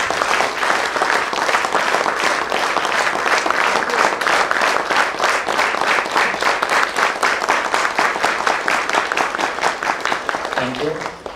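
A ceremony audience, on its feet for a guard of honour, breaks into loud, sustained applause, rhythmic clapping that keeps up evenly for over ten seconds before a brief voice cuts in at the end.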